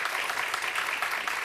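Studio audience applause on a Russian TV fashion show set, a steady dense wash of clapping filling the whole moment without pause.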